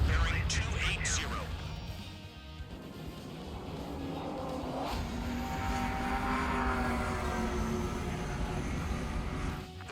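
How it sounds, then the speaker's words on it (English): Ace Combat 7 aircraft roar past at high speed in a loud, sustained jet rush with a rising whine and engine drone, and radio chatter can be heard over the noise. "Aircraft approaching at high speed."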